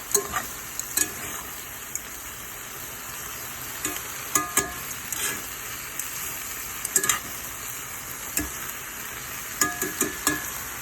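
Bulgogi cooking in a pan, a continuous close sizzle broken by frequent sharp crackles and spits and the occasional light clink of a utensil, with no voices.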